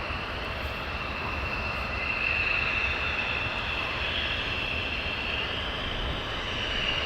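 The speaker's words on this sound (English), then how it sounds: "these have just got their clearance for takeoff. Runway 24." Military jets take off from runway 24 at RAF Lakenheath, a continuous loud engine roar with a steady high whine that holds throughout without pause or talk.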